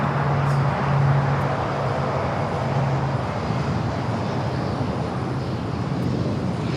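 A Pilatus PC-12 turboprop on the move at LAX airport, a steady, loud broadband engine roar that holds evenly throughout with no talk over it.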